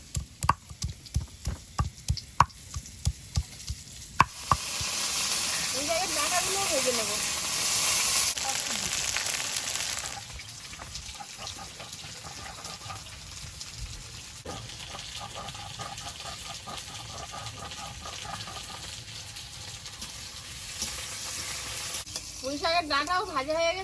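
Potatoes frying in oil in a home kitchen pan, a steady hissing sizzle with occasional stirring scrapes and clatters, close and moderately loud, no talk.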